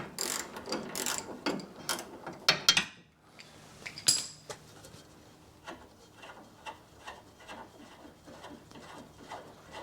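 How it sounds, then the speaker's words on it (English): Ratchet with a deep socket undoing a front stabiliser link bolt on a 2010 Kia Sportage 2.0 petrol, reached through the lower suspension arm: rapid close metallic clicking in bursts, then a steady run of evenly spaced clicks. "I actually found that the ratchet with a deep socket fits through the lower suspension arm there."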